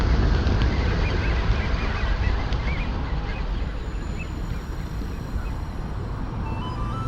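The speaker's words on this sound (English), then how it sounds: "a huge flock of screeching blackbirds pass overhead" A large flock of hundreds of blackbirds screeches overhead in a dense, continuous chorus of harsh cries, steady and fairly loud.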